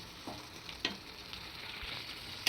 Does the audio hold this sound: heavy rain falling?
no